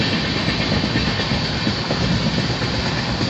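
A Gandhidham to Tirunelveli passenger train rolls on with an almost empty carriage, producing a constant close rumble with light rhythmic clickety-clack from the wheels and no voices.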